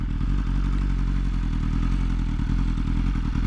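A 2020 BMW S1000RR sport bike's engine drones loudly and steadily up close at a track day, a continuous rumble with some clattering mechanical texture and no pauses.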